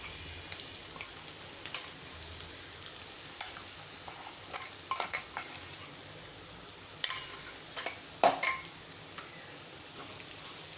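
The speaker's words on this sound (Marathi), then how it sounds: "हे मिक्सरमध्ये वाटून घेतलेलं सगळं आपण या तेलात घालूया" Ground peanut chutney mixture, made from peanuts, frying in hot oil over lowered heat while being stirred, giving a steady soft sizzle with occasional louder scraping strokes.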